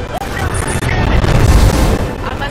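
Explosions blasting down a wall in Titanfall 2, a loud sustained rumbling boom with crashing debris and heavy low-end roar filling the whole stretch.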